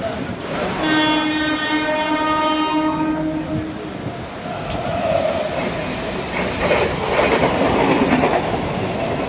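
A train horn sounds loudly for a few seconds as the train arrives at a station in Diva during rain, then rumbling and clatter carry on amid crowd noise.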